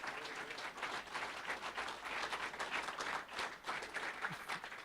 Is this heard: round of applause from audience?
yes